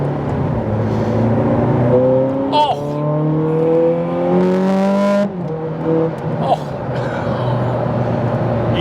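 A 2008 Ferrari 430 Scuderia accelerates from inside the cabin, its engine note climbing steeply, dropping at a gear change, then rising again, loud and close.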